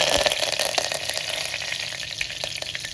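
Cumin and mustard seeds crackle and sizzle in hot oil for a Marathi amti, a steady close frying hiss with scattered sharp pops and spits throughout, no voices.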